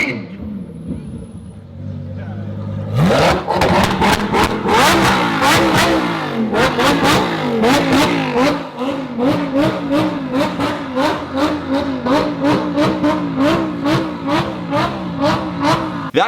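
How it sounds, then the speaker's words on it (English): Lamborghini engine revved hard at a car show: a low idle, then a sudden loud burst and rapid, rhythmic repeated revs, close and aggressive, with crowd voices mixed in. "Here's a clip of a Lambo just revving it."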